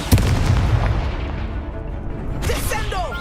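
The Confringo fire spell blasts in Hogwarts Legacy gameplay: a loud, close burst with a heavy boom that rolls off into rumbling debris, followed by a higher crackling flare near the end.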